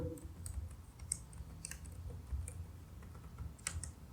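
Quiet typing on a computer keyboard entering a terminal command, a scattered series of light key clicks, close and faint.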